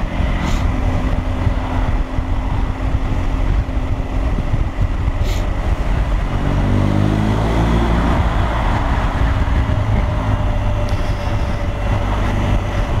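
A motorcycle engine revving inside a tunnel, picked up by a helmet-mounted microphone over heavy wind rush, its pitch sweeping up and down through a long, loud, echoing run.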